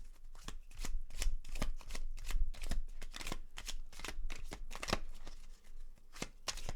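Tarot cards being shuffled in a steady run of crisp riffling snaps and soft slaps, close and fairly loud, with no talking.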